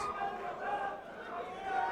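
Wrestling fans in an arena crowd at a death match event, a steady wash of distant chatter and cheering babble that stays even throughout.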